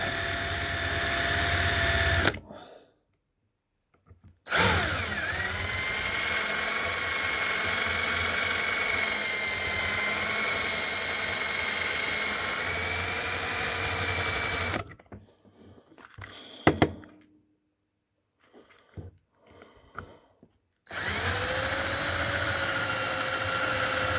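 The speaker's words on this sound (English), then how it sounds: "This is a sharp drill." A sharp drill bores out the rivet posts on a diecast Matchbox car at low speed, a steady whirring hum with gaps where it stops, and short clicks and knocks between runs.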